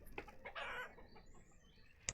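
Chickens in the video game Banished cluck in short bursts, one longer squawk in the middle, followed by a sharp click near the end; fairly quiet overall.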